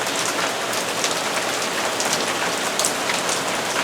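Heavy rain pours down during a flash flood, a dense, loud, constant hiss of drops pounding surfaces with no pauses and no voices.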